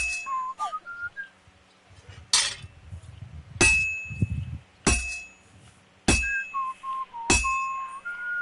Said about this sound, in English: The dude just whistled the Flintstones.